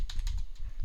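Rapid keystrokes on a computer keyboard, a quick uneven run of close clicks with no voices over them.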